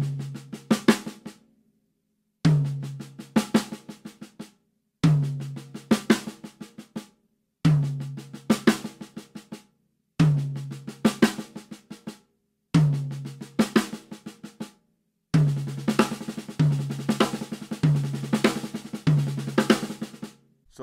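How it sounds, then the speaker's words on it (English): Drum fill of two six-stroke rolls played back to back across the toms, repeated as a clear series of short percussive bursts separated by brief gaps, the final passages running together more densely; close and loud with no talking. "we're gonna play 2 6-stroke rolls back to back"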